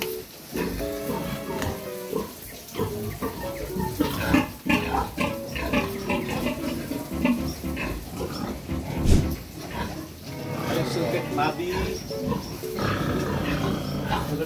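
Pigs on a farm oink, grunt and squeal almost continuously, the noisy animal calls close and overlapping, with loud peaks scattered through the stretch.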